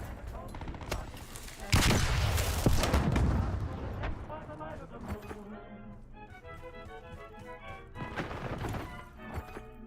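A sharp flashbang blast followed by bursts of rapid gunfire in a video game shooter, loud and close, with a ringing tail and scattered shots continuing afterward.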